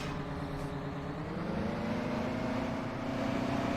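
A Big Bud tractor engine in Farming Simulator 17 drones loudly and steadily, a low rumbling hum that rises slightly in pitch as it keeps running, with no talk over it.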